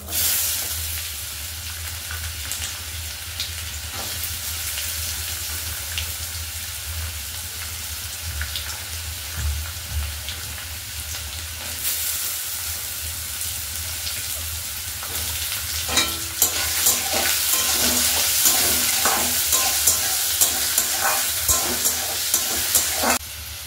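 Potatoes frying in hot oil with cumin tempering for an egg tadka dal, a steady close sizzle with scraping stirs that grow louder and busier toward the end.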